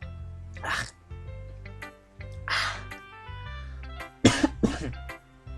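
A man coughs repeatedly, trying to clear water caught in his throat. Three or four harsh bursts come in irregular rhythm over a low steady background tone, and the last cough is the loudest and doubled.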